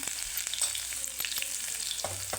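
Curry leaves crackle and sizzle in hot oil for a spiced gram-flour pitla, with a steady close frying hiss and scattered sharp pops, no voices.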